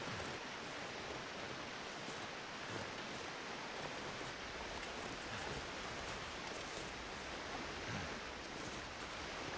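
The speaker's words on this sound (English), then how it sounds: "Sounds like a waterfall or something over here." Waterfall in the survival game The Long Dark, a constant dense rushing hiss of falling water, even and unbroken throughout with no voices.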